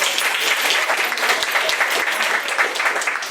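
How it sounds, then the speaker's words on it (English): A crowd claps steadily for a few seconds, dense and even applause filling the room. "Give her a round of applause."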